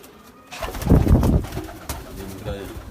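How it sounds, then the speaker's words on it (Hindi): Rampuri pigeons coo close by, a soft throaty rolling call rising and fading amid rustling and shuffling in a breeding loft. "ये कबूतर है"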